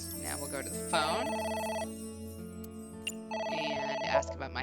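A telephone rings in the video game AI: The Somnium Files, two bursts of warbling electronic ringing separated by a short pause, clear and close.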